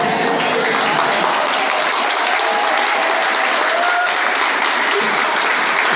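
An audience at a poetry performance at Bansal College of Engineering breaks into sustained applause, dense, even clapping filling the hall at a steady loud level, with faint voices and cheers mixed in.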